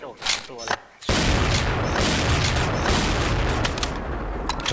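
A grenade blows up in a shooting video game during a ghost-mode match. A sharp blast follows a short burst of shots, and a loud, dense rumble with scattered crackles holds for several seconds.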